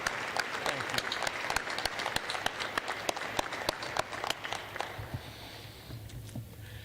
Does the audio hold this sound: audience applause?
yes